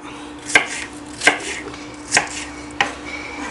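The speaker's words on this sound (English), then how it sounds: "So I'm just gonna roughly chop it." Green tomatoes being roughly chopped with a knife on a cutting board, four distinct sharp chops spaced about a second apart, close and clear with no talking.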